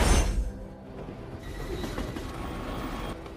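Train running in an action film, a loud burst at the start settling into a steady rumbling, rattling roll of wheels on track.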